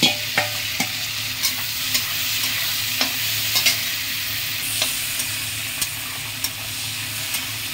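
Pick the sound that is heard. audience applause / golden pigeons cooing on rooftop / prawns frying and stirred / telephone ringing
prawns frying and stirred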